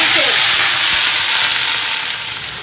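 Chopped onion frying in a pan, giving a loud, close, continuous sizzle that fades slightly toward the end, with no talk.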